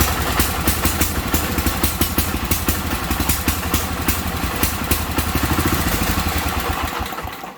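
A Sears garden tractor engine revs at full throttle, a loud, steady mechanical drone with a rapid chattering pulse, alone and close throughout, easing off slightly at the very end.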